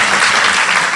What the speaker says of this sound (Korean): 박수 한번 주시고요.